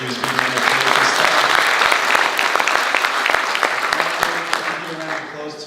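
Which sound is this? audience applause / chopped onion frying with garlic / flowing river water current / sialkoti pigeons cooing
audience applause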